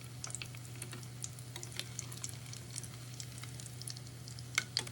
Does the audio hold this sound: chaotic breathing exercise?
no